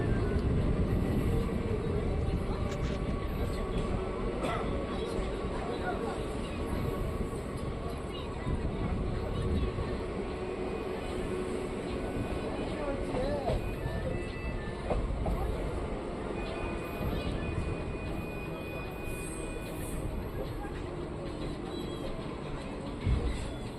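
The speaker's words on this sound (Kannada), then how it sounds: "ನಮ್ಮ ಟ್ರೈನ್ ಈಗ ಮಾಲೂರು ರೈಲ್ವೆ ನಿಲ್ದಾಣಕ್ಕೆ ಎಂಟ್ರಿ ಆಗ್ತಿದೆ" The Sheshadri Express rolls into Malur railway station with a faint, steady rumble of wheels and carriages, a soft continuous drone heard from inside the train, with people talking over it.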